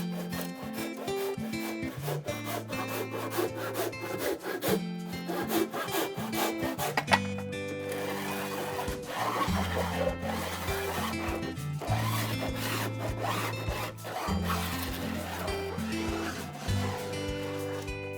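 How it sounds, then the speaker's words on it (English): A handsaw cuts through cedar planks at the bottom of an exterior wall on a back-country storage shed, with repeated rhythmic rasping strokes, close and clear, continuing in bursts with brief pauses between runs of strokes. "I've always used a handsaw for the bottom of the cedar plank exterior wall since the old days"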